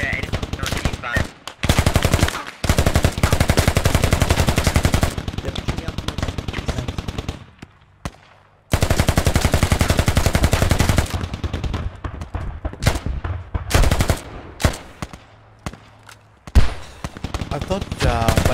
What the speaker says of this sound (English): there's a lot of firing going on